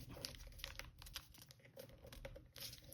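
Origami paper being folded and flipped produces faint, close crinkles and soft papery taps in quick irregular bursts over a quiet room hiss, with no speech.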